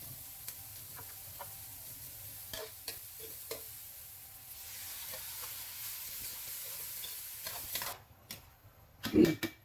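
Laing, a taro leaf dish, being sautéed in a pan: a faint, steady sizzle with scattered scraping and stirring clicks, louder knocks near the end.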